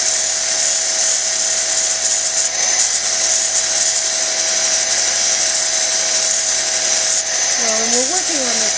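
A small lapidary machine grinds a freeform stone cabochon softer than 5 on the Mohs scale, a loud, steady high-pitched whine running without a break, with a brief squealing waver near the end.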